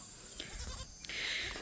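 Goats bleating in a farm pen, a nanny kept apart from her kids, with a few short overlapping calls close by over steady background noise.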